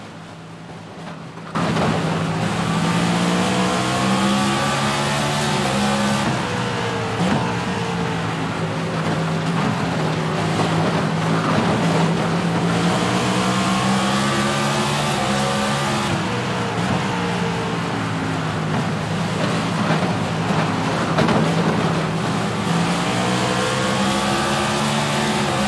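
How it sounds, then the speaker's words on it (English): Onboard engine of a Toyota NASCAR stock car racing at Nashville, a loud sustained roar with harmonic sweeps rising and falling through gear changes and corners, continuous and close after a brief quiet opening. "We'll take you on board with our leader, Noah Gragson, for a little ARN Crank It Up"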